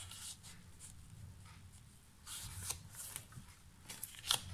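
Scissors trim card stock for a Christmas spinner card, with a few quiet snips and papery rustles close by and no talking.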